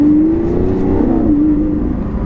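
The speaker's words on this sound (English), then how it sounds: "the V12, and there is no sound like a Lamborghini V12." A loud, deep Lamborghini Aventador V12 roar rises and dips briefly, like a big modified exhaust being revved up close with its valves open.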